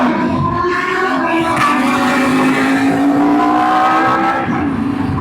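A BMW HP4 motorcycle races at bike night, its engine screaming loud and steady at very high revs, pitch gradually rising as it holds full throttle.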